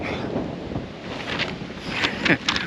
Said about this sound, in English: Wind's kicking up as well.